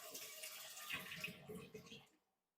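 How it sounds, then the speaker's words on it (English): Water poured into a houseplant pot makes a soft continuous splashing trickle, quiet and close, lasting about two seconds before stopping into silence. "So I'm going to pour some more of this water in here."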